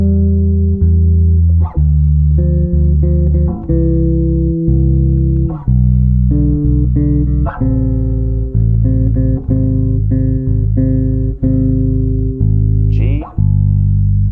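A solo electric bass plays a full piece on its own, with low root notes under chords and a melody on top. The notes ring continuously with clear plucked attacks in a steady, flowing rhythm.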